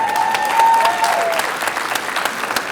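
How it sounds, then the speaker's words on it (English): Applause from an awards-ceremony audience at a paper-craft trade show, a dense steady clapping that swells slightly then holds, with faint crowd noise underneath. "I think you should give them all a round of applause."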